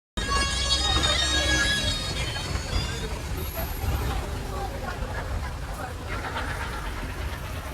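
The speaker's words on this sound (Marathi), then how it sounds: "आणि आता ग्रुपमध्ये आपण बस घेऊन चाललोय मस्त" A bus carrying a group rumbles along with a low engine drone and hiss, louder at first and then settling, while several people talk and chatter inside.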